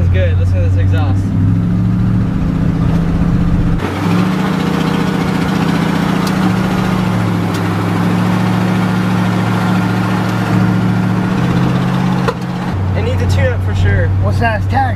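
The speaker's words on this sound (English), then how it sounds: "it sounds good. Listen to this exhaust." Lifted 1968 Ford F-100 pickup idling with a deep, steady low exhaust rumble that stays loud and close throughout, with a brief dip near the end.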